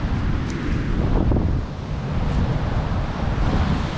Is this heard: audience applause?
no